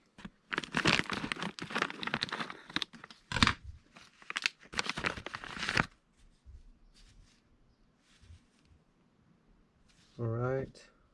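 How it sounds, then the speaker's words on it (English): Scissors snip and crinkle through a plastic parts packet for an X-MAXX RC truck spur and pinion gear, with loud crinkly handling noise in the first half, then quieter rustling and a short voice near the end. "Get some scissors on it."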